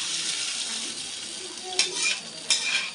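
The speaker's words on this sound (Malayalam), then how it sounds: "ഈ ചട്ടി ഇളക്കി" Payasam is stirred in a cooking pan, with a soft steady scraping and bubbling hiss broken by two sharp metallic clinks of the spoon against the pan.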